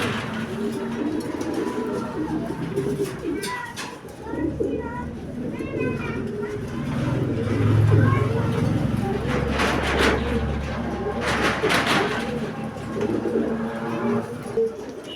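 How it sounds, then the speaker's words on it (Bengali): Long-distance pigeons, a paired male and female, coo repeatedly in soft, throaty bursts close by while someone talks over them throughout. "যারা লং এর কবুতর খুঁজেন এই দুইটাই লং এর কবুতর"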